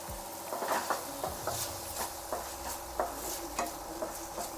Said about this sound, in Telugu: ఈ దోసకాయలు ఉన్నాయి కదా, ఇవి కొద్దిగా లైట్గా ఆయిల్ వేసి ఫ్రై చేద్దాం